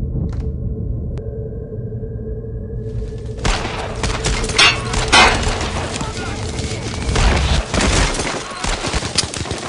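Heavy gunfire from the World War II shooter Brothers in Arms: Road to Hill 30: dense overlapping rifle and machine-gun bursts with booming impacts, sustained and loud after a brief quieter start, with shouted voices mixed in.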